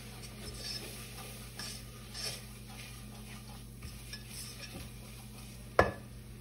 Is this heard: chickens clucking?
no